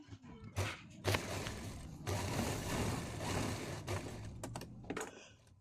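A sewing machine stitches the fly piece onto a pair of full pants in short mechanical bursts of rapid clatter, with brief pauses between runs and no talking.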